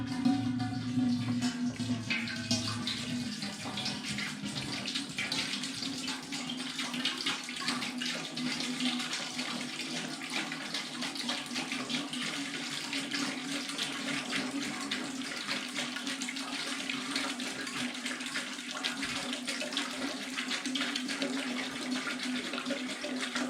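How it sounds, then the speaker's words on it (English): Water pours steadily into a metal turkey-fryer pot for brewing beer, a continuous rushing splash with a low resonant hum, lasting throughout. "getting some water in here"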